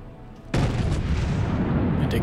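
Heavy naval gunfire from a battleship video game, a sudden loud blast that swells into a sustained rumbling roar continuing to the end.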